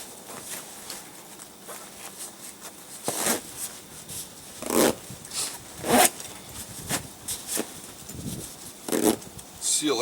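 Zipper being drawn shut on a heavy synthetic Coleman sleeping bag, several short rasping pulls in bursts with rustling fabric between them, close to the mic.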